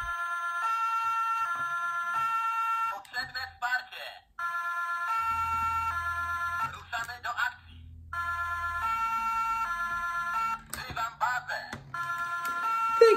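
A small electronic toy police car siren wails in repeated high, warbling bursts, interrupted by brief speech and clicks between cycles.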